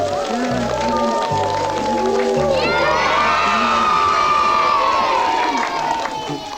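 A crowd of children shouts and cheers loudly and continuously at a Christmas magic show, a dense excited din of many young voices with rising squeals throughout.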